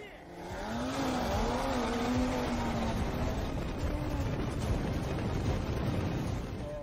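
A powerful Audi RS3 Stage 2, about 550 horsepower, roars under hard acceleration, rising in pitch through gears with heavy wind rumble, while a person talks over it.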